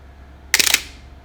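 A Pentax 67 camera shutter fires once at 1/15th of a second, a loud, close mechanical burst of several rapid clacks spread over about a quarter second against a quiet background.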